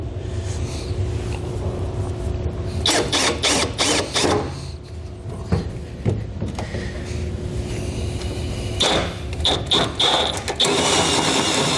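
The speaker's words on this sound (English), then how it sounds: "when we start hitting metal, our blade isn't jumping around and making that hole oblong" A drill bit bores a hole through metal on a Ford F150 while a Demco Autoslide 5th wheel hitch is installed, giving loud grinding, ratcheting bursts that start and stop, with harsh stretches in between and no talking.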